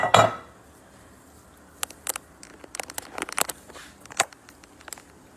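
Cooked food with Parmesan, garlic and chopped onions being served onto a platter, starting with a loud clatter of dishes followed by scattered light clinks and scrapes of utensils against the serving dish.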